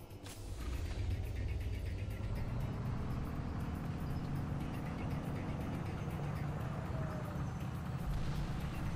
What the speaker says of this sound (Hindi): तो अब हम एक टैंक लेते हैं और फिर निकलते हैं आगे की तरफ।